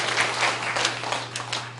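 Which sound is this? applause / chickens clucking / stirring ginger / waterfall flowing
applause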